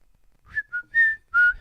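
A person whistles close into a microphone, giving four short, clear tonal notes in a brief rising-and-falling pattern, with breathy air puffs under each note and silence between them.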